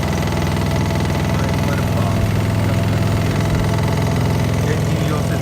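A Denyo MyWelper 140GSS engine-driven welder generator runs steadily, a loud, even mid-pitched engine throb with a rapid regular pulse and mechanical vibration, constant throughout with no pauses.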